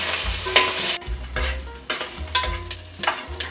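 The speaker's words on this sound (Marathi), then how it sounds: "आता ही चरबी आहे ना, ती पूर्णपणे आपल्याला वितळून घ्यायची आहे।" Mutton fat melts and sizzles in a dry pot with no added oil, for a Nagpuri Saoji mutton curry: a steady, loud crackling fry broken by the scrape and clatter of stirring, with no voices.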